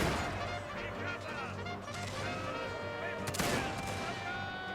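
Massed musket or rifle volleys from infantry units firing at will in a strategy video game, a dense, continuous crackle of scattered shots throughout, quiet in the mix, with game sounds and speech layered over it.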